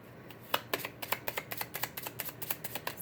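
A Lenormand card deck being shuffled, giving a quick run of crisp, evenly spaced card snaps and riffles, close and fairly loud with no talking.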